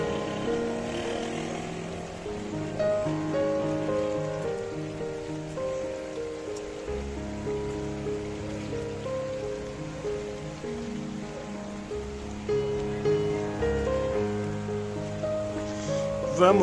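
The Rio do Ouro in Jacobina runs swollen after heavy rain, a steady, continuous rush of water heard close and fairly loud throughout, with no talk over it.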